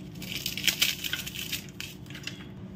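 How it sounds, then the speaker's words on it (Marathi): Crisp fried poha papad crumbles in a hand, a close series of dry brittle crackles and snaps that bunch up early and thin out into lighter crunches. "हातामध्ये घेतल्यावर पूर्ण चुरा होतो ह्या पापडाचा"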